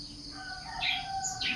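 A parrot and other birds call nearby in short chirps and tweets, with a few bright rising calls standing out over a faint background hum.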